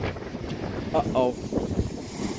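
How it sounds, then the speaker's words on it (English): The Kiama blowhole forcing sea water up through a rock hole, a gusty, wind-buffeted rush of surging water with brief bursts, while people talk nearby. "Because it's blowing water through the hole."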